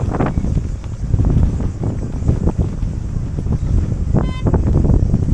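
Strong wind roars and buffets continuously against the microphone, with a brief horn-like toot partway through.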